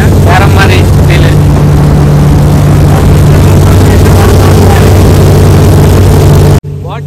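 A motorboat engine drones loudly and constantly up close during a boat ride, with faint voices partly buried underneath, before the sound cuts off abruptly near the end.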